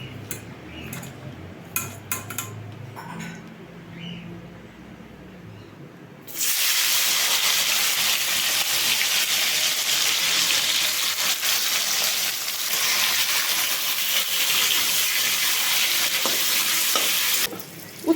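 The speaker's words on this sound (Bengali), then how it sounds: "তেলটা গরম হয়ে এসছে এবারে উচ্ছেটা দিয়ে দেবো" Sliced bitter gourd hits hot oil with a sudden loud, sustained sizzle and hiss that continues steadily for about ten seconds, after some faint kitchen clatter.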